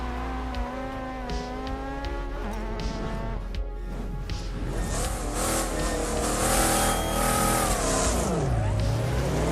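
Racing car engines from a mobile track-racing game, several high-revving engines whining and shifting, pitch climbing and dropping sharply through gear changes, loud and continuous with a swelling roar toward the end.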